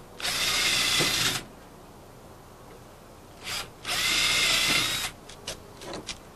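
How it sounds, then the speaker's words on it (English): Power drill boring two holes into an exterior door jamb while fitting hinges, two loud whining bursts about a second long each, close up, with short trigger blips after. "Two drills, drill 2 holes."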